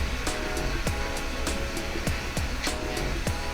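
A Modesa battery-powered nail drill runs with a steady, continuous whir close by, broken by sharp regular clicks and taps roughly every half second; no one speaks.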